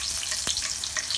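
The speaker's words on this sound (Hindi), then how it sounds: "जीरा ज़रा सा चटकना शुरू हो जाएगा" Cumin seeds sizzling in hot cooking oil at the start of a chicken ginger dish, a steady, close frying hiss with a few brief pops and crackles.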